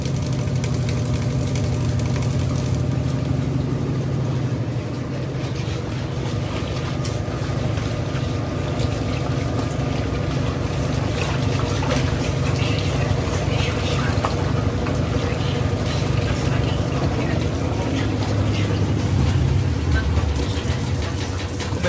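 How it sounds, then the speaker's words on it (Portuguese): A washing machine fills with water for the rinse cycle, giving a steady, continuous rushing hum with low mechanical drone throughout, close and fairly loud, while a person talks over it. "Começou a encher para enxaguar e agora o amaciante desceu."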